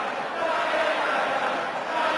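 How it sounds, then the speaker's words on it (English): Darts crowd at the Winter Gardens, Blackpool, during a PDC World Matchplay match, a dense, sustained roar of cheering and chanting that fills the hall at steady loudness. "Some crowd again here in the Winter Gardens in Blackpool tonight."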